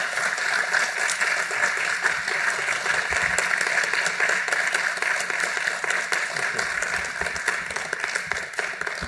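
Steady audience applause after an interview in Oeiras, Portugal fills the whole stretch, a dense wash of many hands clapping at once without pause.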